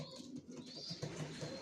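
Soft, low cooing of racer pigeons, a few faint burbling coos close by with a brief higher bird note in the background.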